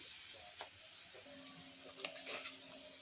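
Potatoes sautéing in a pan with red chili and salt, a soft, steady sizzle with a few light stirring scrapes and clinks, fairly quiet and close, with no talking.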